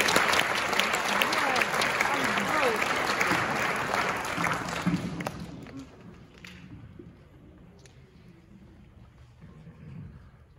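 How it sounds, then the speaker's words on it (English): Audience applause from parents and families at a high school jazz band fall concert, a dense burst of clapping for about five seconds that then thins out and fades to scattered claps. "Give yourself a round of applause."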